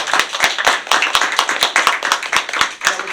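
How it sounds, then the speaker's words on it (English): A television talk-show audience claps in a brisk, uneven rhythm. The sharp hand claps sound close and loud and run steadily for a few seconds. "Give me a round of applause."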